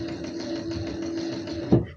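A sewing machine runs steadily, stitching closed the seam of a functional shirt, a continuous close mechanical whir that stops abruptly near the end with a brief clunk.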